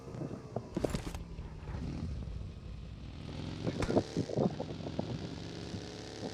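A motorcycle engine drones continuously in a battle royale video game, with engine pitch rising and falling amid scattered game effects and short bursts of noise.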